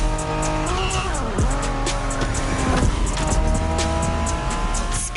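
A Honda NSX from the 1990s races in The Crew Motorfest, its engine note loud and continuous as it swoops through revs, with tyre squeal and a sharp pitch drop as it brakes or shifts.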